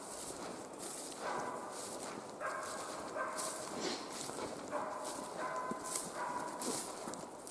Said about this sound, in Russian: Вон она собака лает кого-то.